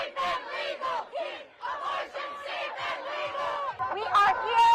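A vast protest crowd of thousands, gathered after the Supreme Court abortion ruling, roars and chants together in loud, sustained waves that swell and dip, with a sharper surge near the end.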